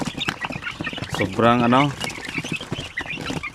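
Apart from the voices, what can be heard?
Basilan native chickens clucking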